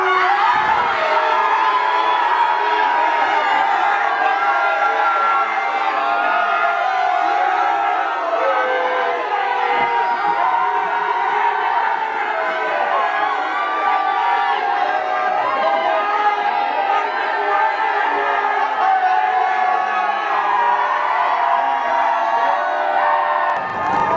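A large crowd screams and cheers nonstop, a dense roar of shrieks, whoops and shouted voices that stays loud and steady throughout with no pauses.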